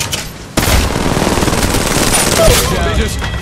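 Loud, continuous automatic gunfire from a firefight in the mobile shooter Apex Legends Mobile, starting abruptly after a brief quieter moment and pounding on steadily to the end, dense and close.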